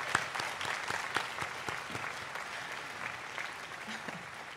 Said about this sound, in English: we could applaud